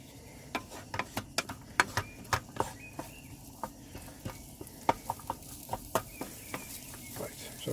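Onions fry in a pot on a camping stove in a van, a steady soft sizzle under a string of sharp, irregular ticks and scrapes from stirring, close and fairly quiet.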